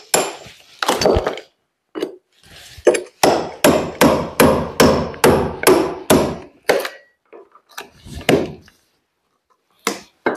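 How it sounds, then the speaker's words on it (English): An old bolster chisel is hammered to pry off wooden skirting board. About a dozen sharp, close, ringing strikes come in a rapid, regular run, with a few scattered knocks before and after. "So we're going to carefully remove that with the old bolster chisel"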